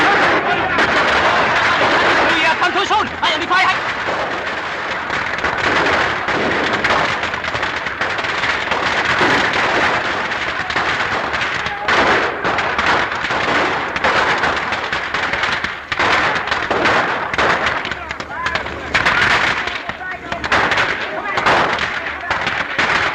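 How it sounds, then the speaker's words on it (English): Rapid machine gun fire from a 1936 film, a dense, loud, continuous clatter that runs the whole way through, with voices talking over the shooting. "Maybe machine gun, huh?"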